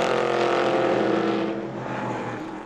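Le Mans Cup race cars pulling out onto the racetrack, a loud sustained engine drone that fades slightly as the cars move away.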